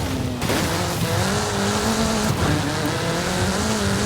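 A car picks up speed in Forza Horizon 5, its engine note rising and falling through gears with a brief tire squeal, loud and close with a steady gamey roar throughout.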